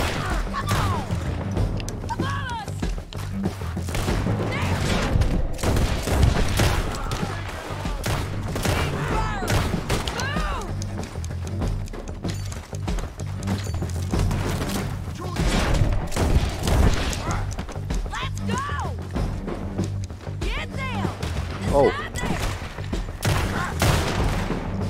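Heavy, dense gunfire from a Red Dead Redemption 2 shootout at a house, with shots cracking one after another almost without pause and booming impacts mixed in throughout.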